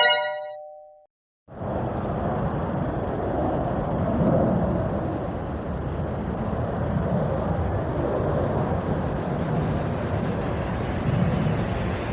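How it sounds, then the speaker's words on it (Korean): Airplane noise near a military air base in Suwon, heard from the ground: after a brief quiet moment, a loud, steady broadband roar of aircraft sets in and holds without letup. "지상에서 들어본 비행기 소음을 영상으로 확인해 보겠습니다"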